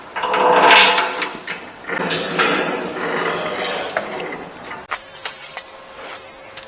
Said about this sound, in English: It'll hold up by the safety latch.